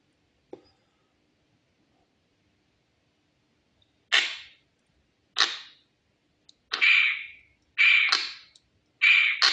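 Space Invaders game on a MyPlay wrist watch fires a series of short electronic zaps, about six spaced laser-like blips growing more frequent, close and clear in otherwise silent surroundings.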